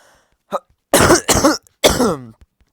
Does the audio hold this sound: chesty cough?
yes